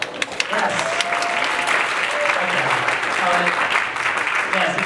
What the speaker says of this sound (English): It was sort of a weak applause.